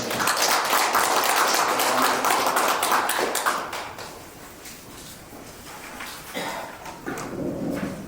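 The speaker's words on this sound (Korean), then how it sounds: "큰 박수 부탁드리겠습니다." An audience at an academic conference applauds the president of the Korea Gukhak Gigong Association, a few seconds of loud, dense clapping that thins out into scattered claps and room noise.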